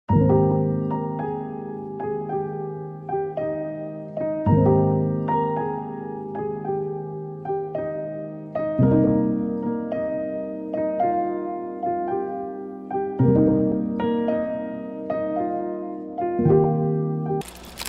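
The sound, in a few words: felt piano progression and melody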